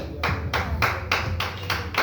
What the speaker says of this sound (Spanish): Dale pues los aplausos a Él, que Él se lo merece